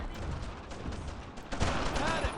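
Machine gun fire in the WWII game Brothers in Arms: Earned in Blood, a dense rattling burst that rolls on through the clip. It grows louder and closer near the end, with a voice speaking over part of it.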